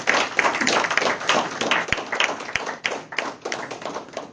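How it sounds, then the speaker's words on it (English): A small audience at a community campaign event gives a round of applause, a steady patter of nearby claps that gradually thins out, with a couple of dull thumps. "So if we can have a round of applause for Catherine."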